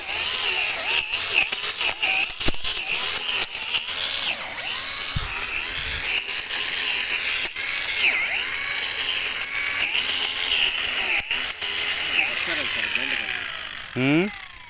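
A 24 V battery-powered weeder runs steadily through soil at half-inch depth on a farm plot near Melur, Madurai, a continuous whirring motor with rattling, ratcheting grit from the blades, close and fairly loud, ending in a brief rising whine.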